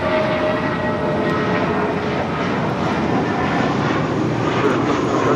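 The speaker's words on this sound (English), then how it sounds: "This flight coming in from Memphis." An airliner from Memphis lands on runway 25 left at Los Angeles International Airport, its engines giving a loud, sustained roar with a faint whine riding on top, steady and near throughout.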